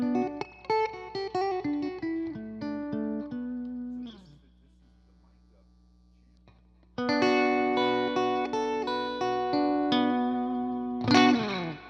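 Electric guitar played completely dry through an amp, with no reverb, notes and chords ringing out plainly, then falling silent for a few seconds before another phrase that ends in a bright strum.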